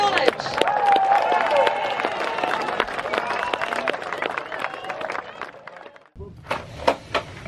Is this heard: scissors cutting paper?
no